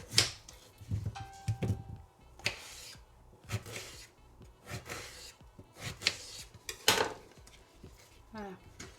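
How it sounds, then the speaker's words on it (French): Christmas poultry is cut in half with a knife, ready for roasting with vegetables in a Ninja Foodi; close, irregular knocks, scrapes and clatter of the blade against the board come in short bursts. "Donc je les coupe en deux."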